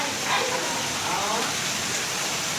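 Heavy rain pouring steadily, a dense close wash of falling water hiss with a faint voice murmuring underneath.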